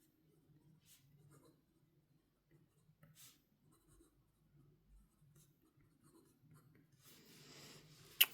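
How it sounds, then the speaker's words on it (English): A Pelikan M400 fountain pen writes on paper, making faint, close, intermittent scratchy strokes with short pauses, ending in a slightly louder rustle. "Let me give it a quick writing test."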